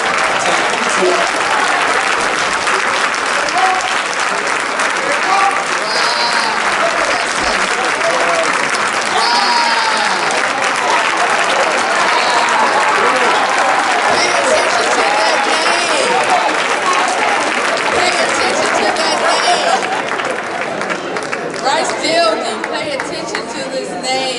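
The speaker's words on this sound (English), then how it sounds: "Give a round of applause, everybody." At a community meeting, a large audience bursts into long, sustained applause that stays loud and dense for over twenty seconds, with crowd chatter mixed through it.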